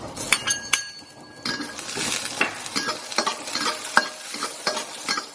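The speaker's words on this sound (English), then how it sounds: "Heat up a wok. Gonna add some oil. Once the oil's heated up, I'm gonna go in with my garlic," Garlic and chilies fry in hot oil in a wok, a steady sizzle broken by repeated scraping and clinking strokes as the ingredients are stirred and tossed.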